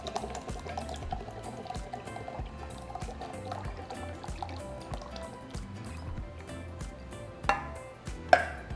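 Coconut condensed milk and evaporated milk are poured for a piña colada tres leches cake, giving a soft, continuous liquid flow with light dripping and splashing. Two sharper clinks land near the end.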